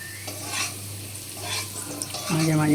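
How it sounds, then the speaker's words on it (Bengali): Potatoes sizzle as they fry in a pan, with occasional stirring scrapes and a brief metallic clink near the end, steady and close with no talking. "আলুগুলো আমার প্রায় ভাজা হয়ে এসেছে।"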